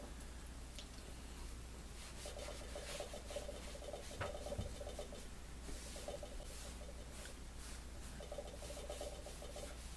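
Cloth or fingers rub dye into leather bracers, producing soft, repeated scrubbing strokes in short bursts over a low steady hum, quiet and close.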